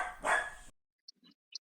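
Dog giving a single loud, close bark, followed by a few faint, small yips and whimpers in near silence.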